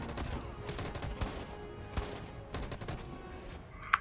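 Gunfire from police officers being shot in the video game Detroit: Become Human, a rapid volley of overlapping shots with sharp bursts, dense and steady, followed by a short bright clink near the end.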